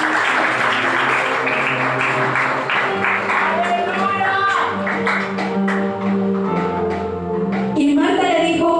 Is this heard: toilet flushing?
no